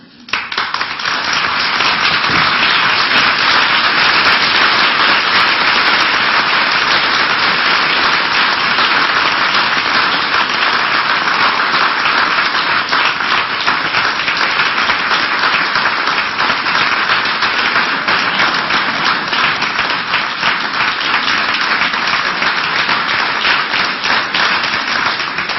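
Sustained, loud applause from an audience at a University of Wisconsin System Board of Regents meeting for a teaching award presented to the UW Parkside Theater Arts Department, dense steady clapping for about 25 seconds with no talk.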